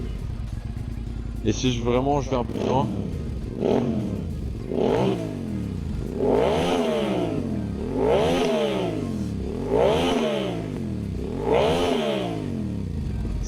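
Suzuki SV650S motorcycle engine blipped repeatedly through its exhaust, a series of about seven evenly spaced rev surges rising and falling, close and loud, with someone talking briefly at the start.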